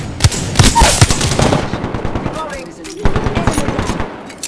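Rapid automatic gunfire rattles loudly in Apex Legends, with bursts of shots and repeated impacts filling the clip close up, and a player's voice briefly audible beneath it.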